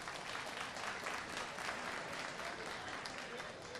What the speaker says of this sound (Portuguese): fica de pé aí para o pessoal aplaudir